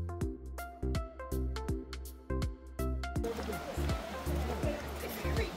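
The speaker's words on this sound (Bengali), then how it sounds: "কানে ভেসে আসছে জলের শব্দ, দূর থেকে ডাকছে ঝর্ণা।" Rushing water from the Johnston Canyon waterfall in Banff National Park becomes a broad, steady roar partway through, after an opening of rhythmic tonal music.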